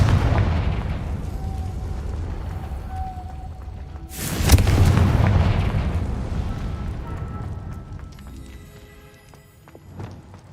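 A Confringo spell blast in the video game Hogwarts Legacy: one sudden loud boom about midway through, its roar decaying over several seconds beneath ambient game hum, followed by faint chiming tones.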